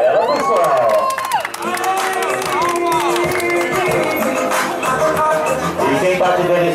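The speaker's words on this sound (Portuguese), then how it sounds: "uma salva de palmas pra ela, pessoal!" Cheering and applause from a party crowd celebrating a woman's surprise birthday in Itaim Paulista, with shouts, whoops and children's voices over steady clapping, loud and close, mixed with chatter and music-like tones.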